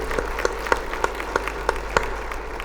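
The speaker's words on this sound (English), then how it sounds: "can we have another applause for the very distinguished speakers" Audience applause for distinguished speakers, Justices Mansoor Ali Shah and Aisha Malik, at a talk on the Earth's illness: a room of people clapping steadily, moderately loud, with some louder individual claps punctuating the sound.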